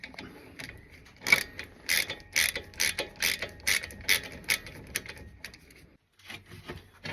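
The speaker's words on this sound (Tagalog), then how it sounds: "May make sure natin na mahigpit yung ating mga bolt." A ratchet wrench tightens brake bolts on a 2011 Toyota Avensis 2.0 in a pit. Sharp, fairly close clicks come in quick bursts with short gaps, then stop briefly before a few more clicks; no one speaks.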